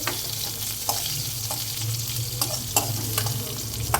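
Curry leaves frying in hot oil for a beetroot curd pachadi, a steady close sizzle with occasional sharp crackles and pops, stirred throughout, no talk.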